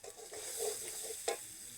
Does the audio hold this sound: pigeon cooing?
no